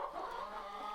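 Hens clucking steadily in a dense, continuous chorus, fairly close, with no pauses or other sounds.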